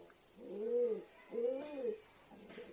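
Agitated pigeons on a rooftop give two soft, low, rolling coos close by, one after the other, against a quiet background.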